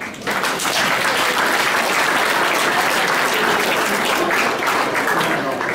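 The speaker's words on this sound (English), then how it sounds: "So I think you all deserve a little round of applause." Loud, sustained applause from a sizable crowd at a seniors' party in Westport, many hands clapping evenly from start to finish.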